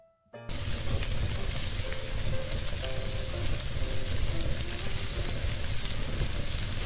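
Oil heating in a pan for a tempering while cooking a mutton mustard curry for Qurbani Eid, giving a steady, fairly loud frying sizzle that starts abruptly after a brief quiet moment and continues without talk.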